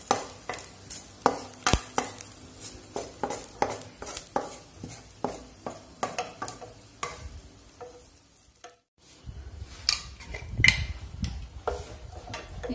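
A spoon scrapes and knocks rhythmically against a pan as tempering is stirred into spinach dal, with soft sizzling underneath; after a brief pause, louder stirring and frying noise return.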